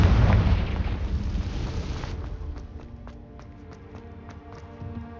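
Blasting spell explosion in Hogwarts Legacy, a loud rumbling blast at the start that decays over about two seconds into a quieter scene with light clicks and taps.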